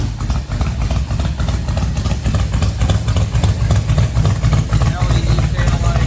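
A 1961 Chevrolet Impala's fuel-injected 283 V8 idles steadily with a deep, throaty dual-exhaust rumble, loud and close throughout.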